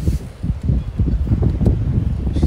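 Gusty wind buffets the microphone outdoors on a sunny, cool day, a low rumbling roar with uneven surges and rustling throughout.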